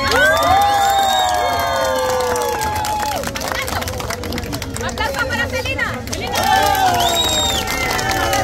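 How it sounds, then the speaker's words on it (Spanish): Audience at a live challenge show cheers and shouts loudly throughout, with excited crowd noise and high voices swelling at the start, dipping in the middle, and rising again near the end. "Así que aplausos para Romina."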